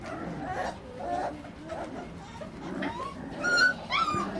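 Several kennel puppies whimper and yip in short, high, overlapping cries close by, with a faint bit of background voice.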